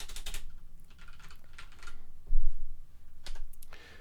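Typing on a computer keyboard while entering credit card details, with irregular bursts of clicking keystrokes and short pauses, close and moderately loud with no talk.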